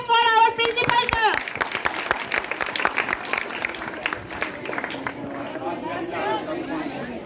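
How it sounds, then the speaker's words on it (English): A school audience of teachers and children claps for the principal at an Independence Day assembly, steady dense applause filling the room with some chatter mixed in, and voices heard over the clapping. "Please give a big clap for our principal sir."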